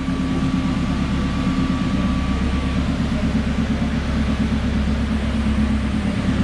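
A tuned car engine on a dyno, known as the Pink Widow, holds a loud, steady drone with dense low rumble and a faint whine, continuous and close throughout.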